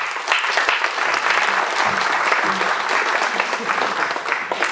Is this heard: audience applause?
yes